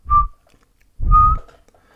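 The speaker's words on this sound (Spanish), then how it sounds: "sentía la necesidad de hacer un silbido suave en una nota e intensidad particulares" Two short, soft whistles on one steady note, each lasting about a quarter second and separated by a pause, heard alone and close.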